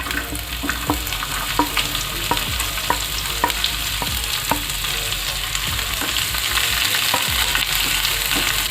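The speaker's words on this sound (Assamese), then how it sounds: "এক মিনিট সময় মই পিঁয়াজখিনি ভাজি ল'ম" Chopped onions fry in hot oil with bay leaf, dried red chillies and whole cumin, giving a steady loud sizzle with scattered clicks and scrapes of stirring throughout.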